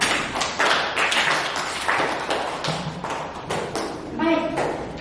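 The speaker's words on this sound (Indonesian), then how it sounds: "Sekali lagi tepuk tangan." Students applaud in a classroom, a burst of irregular hand claps mixed with children's voices and chatter, close and moderately loud, with a brief tonal sound near the end.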